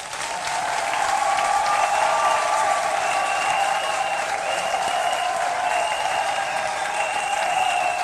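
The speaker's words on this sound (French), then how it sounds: "C'est pourquoi on va vous applaudir maintenant." Loud, sustained applause from a crowd gathered for a Cojep visit, dense clapping filling the whole stretch with cheering and whistles riding on top and no break in the noise.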